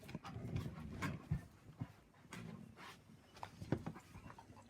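A puppy makes soft, talky vocal sounds, with short whines and grumbles scattered among panting and scuffling as dogs play nearby, close but quiet.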